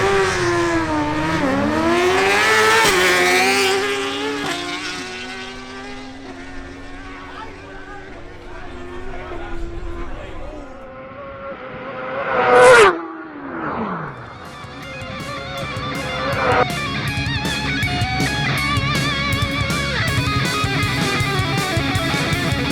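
A Suzuki GSX-R1000 motorcycle accelerates hard down a drag strip, its engine climbing through rising revs with gear shifts, then a loud close pass followed by further engine noise and crowd sounds.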